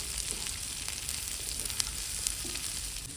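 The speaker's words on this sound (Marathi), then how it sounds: "आपण अजून मसाले असेच परतून घेऊ" Spices for black chicken sukka sautéing in a hot pan, a steady bright sizzle with faint crackles and a couple of small pops, close and continuous for a few seconds with no voices.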